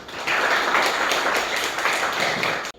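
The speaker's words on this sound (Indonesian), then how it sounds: "Tepuk tangan buat semuanya" A classroom of students claps together for a few seconds, a dense, steady patter of hands that stops abruptly at the end.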